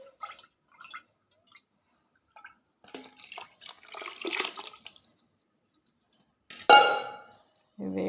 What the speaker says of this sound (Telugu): ఇప్పుడు దీంట్లో ఇవి పోస్తానండి. బియ్యం కడిగిన నీళ్ళండి.